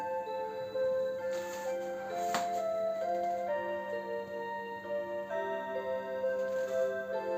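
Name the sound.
ticking of a Seiko QXM378B clock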